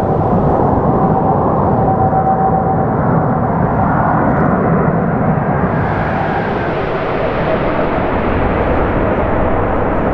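A steady, loud jet roar from an airliner landing on runway 24R at Los Angeles International Airport, holding a broad rumble throughout with a slight rise in brightness midway, heard from nearby without speech.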